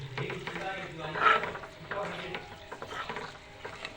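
Meat pickle being stirred together with chili powder in a pan, giving a steady wet scraping and stirring noise with a faint sizzle, fairly close and continuous throughout.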